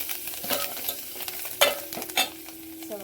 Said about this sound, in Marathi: आपण चांगले मिक्स करून घ्यायचं आहे आपल्याला.